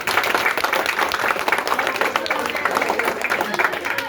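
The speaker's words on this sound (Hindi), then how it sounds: "इसके साथ ही एक जोरदार तालियां बजाइए" Steady applause from a crowd at an Independence Day speech fills the whole clip, dense and loud, with a voice talking over it.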